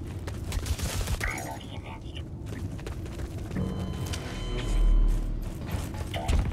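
Bolt-action rifle shots and mechanical bolt cycling in the Blacklight shooter video game, dense gunfire and clattering mechanisms across a busy battle soundscape, with a swell of low rumble near the end.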